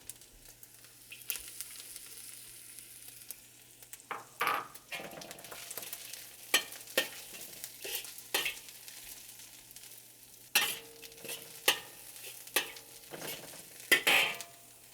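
Shrimp and mushrooms stir-frying in a wok, a low steady sizzle broken by repeated sharp scrapes and clanks of a spatula against the metal, close and without speech.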